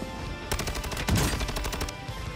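Automatic gunfire in the video game Warzone 2, a rapid, loud burst of shots lasting about a second and a half against constant game background noise.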